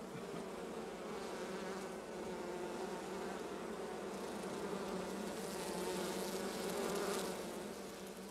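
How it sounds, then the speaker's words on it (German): A steady, dense hum of many honeybees buzzing together around straw skep hives in warm spring sun at a winter apiary site, continuous and fairly close, swelling slightly toward the end. "An diesem dritten großen Winterstand bei Alpershausen sind die Bienen in der warmen Sonne rege dabei"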